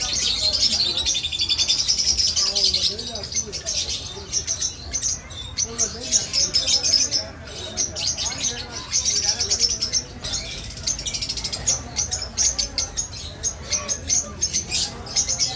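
Mixed cage birds at a bird dealer's shop, including ringneck parrots, chirp, tweet and squawk continuously at close range, with a busy layer of overlapping calls throughout.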